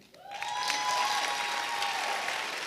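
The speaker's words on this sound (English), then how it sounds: "Please give a round of applause for," A graduation audience at an online school ceremony bursts into applause for a student leader, swelling quickly and holding steady, with a cheer rising above the clapping.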